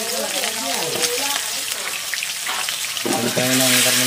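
Steady sizzling of pork frying in a hot pan, a broad crackling hiss, with a voice speaking over it near the start and end.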